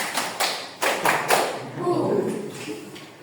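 A few sharp hand claps in a quick rhythmic burst during a classroom lesson, followed by a voice speaking.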